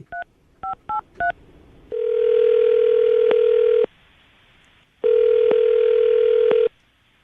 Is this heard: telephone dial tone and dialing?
yes